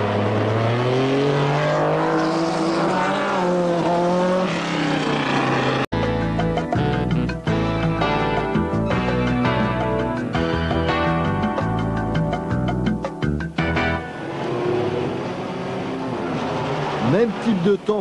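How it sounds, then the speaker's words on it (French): Loud rallycross car engines roar and rev continuously at Lohéac in 1991, with shifting pitch as cars accelerate past, nearby and dominant throughout. "Voici venir les grondements des chevaux échevelés,"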